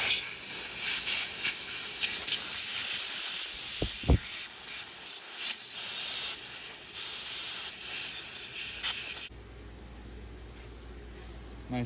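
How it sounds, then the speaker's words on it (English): Compressed air blasting through a 1972 Johnson 6R-72D 6 hp outboard motor carburetor during a rebuild, loud sharp hissing bursts in several uneven spurts with brief gaps, then cutting off to near quiet at the end. "I'm just going to hit this with some compressed air and start cleaning this out."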